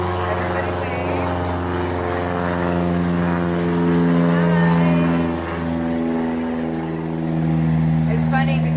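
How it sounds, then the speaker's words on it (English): A propeller airplane passes overhead with a steady, droning hum that swells and holds for several seconds, while a person speaks nearby. "We're going to wait for the airplane"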